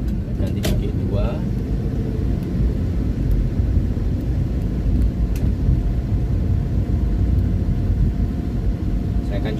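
A 2007 Daihatsu Zebra Espass engine pulls steadily in second gear, a constant low rumble with road noise filling the whole stretch, heard from inside the cabin with a few faint clicks.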